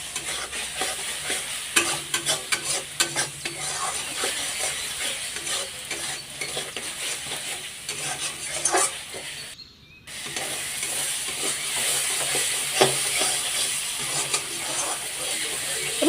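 Masala being sautéed and stirred in a pan while cooking raw banana and potatoes, with constant sizzling and rapid, repeated scraping strokes, broken by a brief silent gap near the middle.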